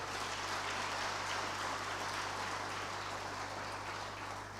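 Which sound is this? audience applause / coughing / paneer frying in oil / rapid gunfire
audience applause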